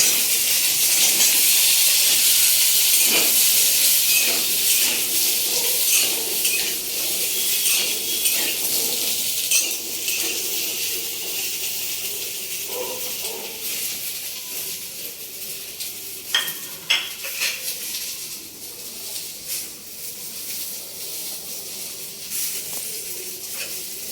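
Steady sizzling of cut potatoes frying in hot oil for aloo sabji, a dense hiss throughout with occasional crackles and stirring clinks, no voices.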